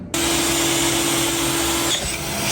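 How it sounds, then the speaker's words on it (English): Power drill boring holes for the front mounts of a homemade roll bar in a Mazda Miata, a steady loud whir with a constant tone running for about two seconds, then easing slightly near the end. "we'll go ahead and drill our holes for the front mounts."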